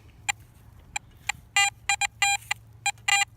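A Garrett AT Max metal detector rings up on a buried target, giving a string of short, clear electronic tones in an irregular rhythm, some brief and some held, over a faint low background hum.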